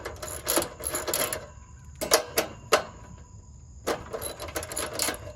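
A wrench works loose 10mm bolts on the ignition coil of a Gravely zero turn mower with a Kawasaki engine, giving several short, close metallic ratcheting bursts separated by brief pauses.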